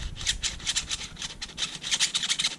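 Dry, gritty rubbing of 3D printed plastic layers of a 3x5x7 twisty puzzle scraping against each other in quick repeated bursts, close up, with no voices.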